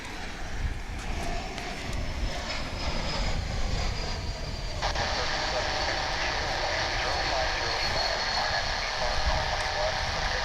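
Delta airliner at DFW International Airport, a steady broad jet engine roar that swells midway and holds loud, heard from a distance with someone talking over it.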